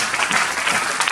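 A church congregation applauds for Jesus, a brief burst of loud, dense clapping from a crowd filling the room.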